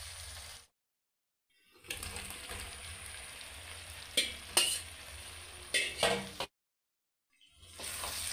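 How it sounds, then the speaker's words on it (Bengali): Fried jackfruit pieces are stirred into sizzling masala in a pan: a steady hiss and frying crackle with scraping stirs and a few clinks, broken by brief silent gaps. "এবার ভাজা এঁচোড়গুলো দিয়ে দেবো এর মধ্যে।"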